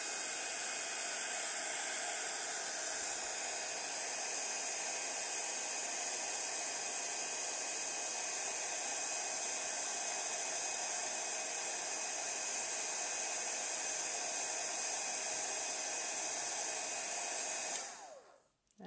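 A heat tool warming embossing powder blows with a loud, steady, hissing whoosh that continues unbroken for a long stretch, then cuts off abruptly at the end.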